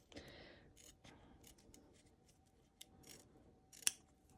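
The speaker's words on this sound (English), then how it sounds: "you want to cut as close as possible" Scissors snip fabric close to a line of stitches in a series of quiet, close cuts with small clicks, ending in one sharper snip.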